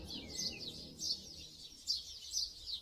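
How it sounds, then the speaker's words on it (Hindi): Forest birds chirp and trill in the morning, a series of bright, high calls in short bursts at middle distance over a quiet background. "सुबह सुबह जंगल से उठती जानवरों और पक्षियों की आवाजों"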